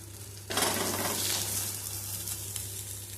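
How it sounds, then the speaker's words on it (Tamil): Anchovies and curry leaves fry on a tawa over medium flame, a loud broadband sizzle bursting in about half a second in and holding steady to the end, with faint metallic clicks and no talking. "கொஞ்சம் மீடியம் ஃப்ளேமில் வச்சு ஃப்ரை பண்ணுங்கள்"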